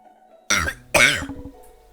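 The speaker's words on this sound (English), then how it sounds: "Sorry about the coughing, guys." Two sharp, close coughs break a quiet background, the second longer and trailing into a rough throat-clearing rasp.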